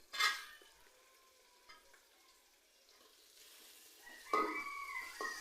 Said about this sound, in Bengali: এগুলো ভালো করে নেড়ে নেবেন